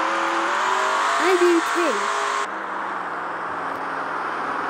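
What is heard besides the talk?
car engines revving in a Roblox racing video game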